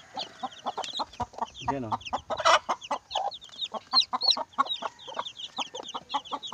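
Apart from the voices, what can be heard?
chicks, Rhode Island and native chicken crosses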